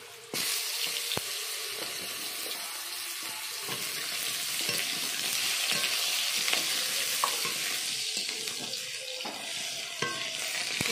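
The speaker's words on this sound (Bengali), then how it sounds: "আমি এখন বড়িটা ভেজে নেব, দিয়ে দেবো পরিমাণ মতো তেল" Homemade lentil dumplings (bori) frying in oil in a pan, a loud continuous crackling sizzle from start to finish with occasional clinks of a utensil, close and without talk.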